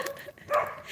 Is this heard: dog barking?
yes